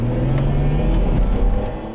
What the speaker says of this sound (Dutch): een scooter die een allesbehalve origineel klinkende uitlaat gemonteerd moet hebben